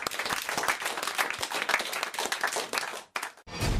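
A studio audience claps during a French radio comedy show, with brisk, dense applause that carries on for about three seconds before a sudden break and a short burst of other noise.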